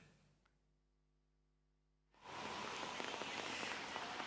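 Heavy rain in Kerala pours down on Manaveeyam street, a steady, dense hiss of downpour that begins abruptly after about two seconds of near silence and low hum, then holds loud and even.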